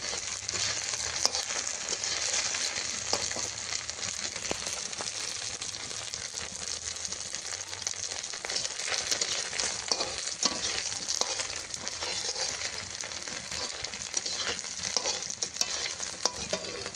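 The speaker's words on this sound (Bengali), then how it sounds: "সেগুলো আমি হালকা করে ভেজে নেব" Boiled taro and potato sizzle steadily in hot oil, with occasional stirring scrapes in the pan; close, continuous and without any talking.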